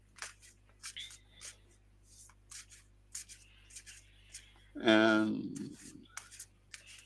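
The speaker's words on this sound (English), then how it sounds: "I am shuffling the cards." Tarot cards shuffle close up as a series of soft, quick rustling strokes in short bursts, with a brief voice cutting in midway.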